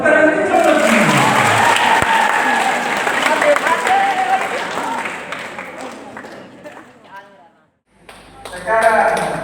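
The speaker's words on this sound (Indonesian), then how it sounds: "Tepuk tangan ini coba semua." Applause from a gathered audience at a school graduation announcement, loud dense clapping at the start that thins and fades, then a short pause before a voice begins speaking.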